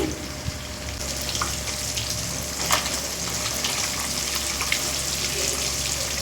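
Fish pieces frying in a pan for a home-style fish curry, giving a steady, soft hiss of sizzling oil with a few faint clinks, continuous and fairly quiet, with no voices.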